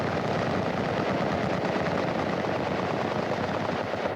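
Rifle fire on an Army training range at Fort McClellan, a continuous loud rattle of rapid shots blending into one dense roar for several seconds, with no talking.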